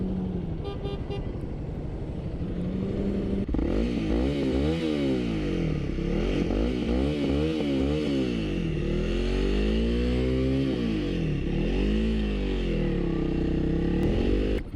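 A 2025 Honda CRF300L dual-sport motorcycle is revved repeatedly with a stock exhaust, its engine note rising and falling in loud close sweeps over a steady idle.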